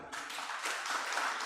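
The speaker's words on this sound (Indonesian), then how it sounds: "Tepuk tangan dulu." A crowd at an Easter celebration gathering breaks into a short, steady burst of applause, a dense patter of clapping that lasts only a moment.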